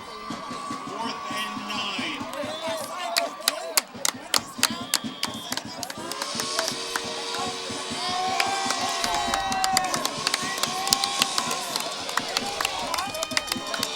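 Crowd noise fills the stands at a Wayne Hills vs Paramus high school football game on senior night, with cheering swelling toward the end. Scattered claps and knocks run through it, and an announcer talks over it.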